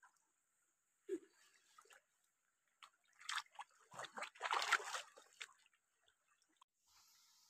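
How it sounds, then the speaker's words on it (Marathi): Water splashes and trickles in uneven bursts as hands and feet are washed outdoors in rural Konkan, quiet at first, then building to a denser spell of splashing before fading to scattered drips. "हे बघा पाणी. इथे आपल्याला हातपाय धुवायचे."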